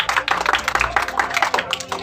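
A seminar audience breaks into brief clapping, a short burst of scattered, uneven claps with some voices mixed in before it trails off.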